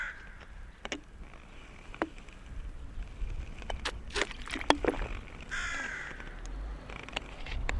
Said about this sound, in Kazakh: Қарғаның дауысы ғана естіледі.